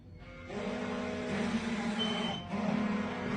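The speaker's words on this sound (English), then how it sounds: "We got alarms going off" Several alarms go off together, a steady layered electronic tone with harmonic bands that holds throughout and pauses briefly near the end before resuming, loud and near with no talk.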